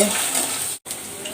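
Onion frying in mustard oil gives a bright, steady sizzle that is cut by a short gap midway and returns close and loud.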